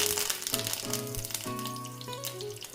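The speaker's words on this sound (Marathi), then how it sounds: "तेलामध्ये कढीपत्ता टाकूया" Curry leaves drop into about half a cup of hot oil for a traditional Bhogi vegetable dish. The oil sizzles up at once, with bright sputtering over a steady fry and a few clanks and tones underneath.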